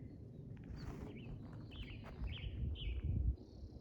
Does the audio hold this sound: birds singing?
yes